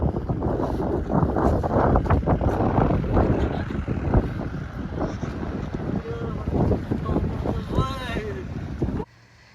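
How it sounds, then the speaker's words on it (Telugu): Strong wind gusts at high-altitude Khardung La pass in Ladakh, buffeting the microphone with a loud, rough roar, and people talk over it before the noise cuts off abruptly. "ఇక్కడ ఎంత ఎయిర్ వస్తుందంటే ఆ సౌండ్ వినండి మీరొకసారి"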